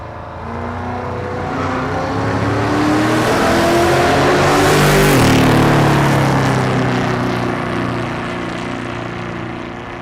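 A 1982 Chevrolet Silverado and a 1962 Ford Falcon drag racing on a dragstrip, engines swelling into a loud roar as they pass close by, with a falling pitch as they go, then fading away.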